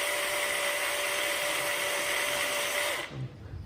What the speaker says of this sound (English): Now you drill carefully 8mm hole.